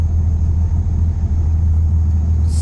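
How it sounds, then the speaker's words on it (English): Steady, heavy low drone from the 12-litre engine of a Volvo FH12 truck in Euro Truck Simulator 2, loud and close throughout, with a faint higher hiss near the end. "Just listen to that bassy rumble though."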